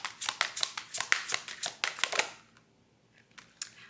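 Tarot cards are shuffled in a quick run of crisp, riffling flicks that stop abruptly, followed by a few faint scattered taps of the deck; close and fairly quiet, with no talk.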